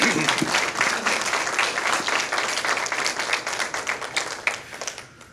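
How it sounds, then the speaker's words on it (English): An audience at a Good Scout Award event gives a sustained round of applause for a speaker named Olivia, dense clapping throughout that tapers off near the end. "I'd like to give her another round of applause"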